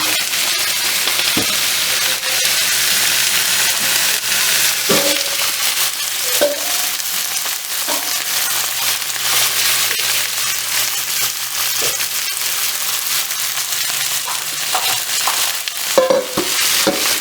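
Kidney beans cooking on a grill, a steady broadband sizzle and hiss running throughout with occasional faint clinks and stirring scrapes, close and fairly loud, no talking.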